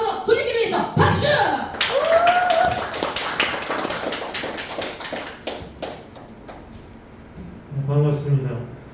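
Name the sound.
audience clapping to welcome a lecturer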